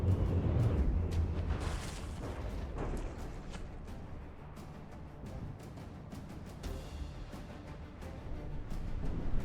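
Rumbling, overlapping explosions and booming blasts from a naval battleship battle in the game From the Depths, loud and continuous with repeated bursts and crackling debris throughout.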